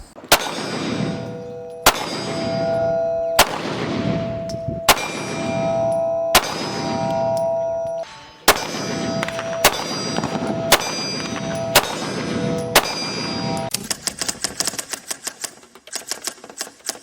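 A Smith & Wesson M&P Shield Plus and a SIG P320 X-Carry Legion pistol fire about eleven sharp, loud shots with steady spacing and ringing tails, followed by a fast, dense string of shots at the end.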